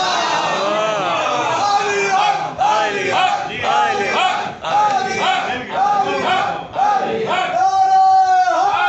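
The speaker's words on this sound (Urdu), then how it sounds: "ہم لگاتے ہیں حیدری نعرے" A crowd at a Shia poetry majlis in Multan shouts Haidari slogans in unison, a series of loud, rhythmic collective calls with brief dips between them, ending in a longer sustained cry.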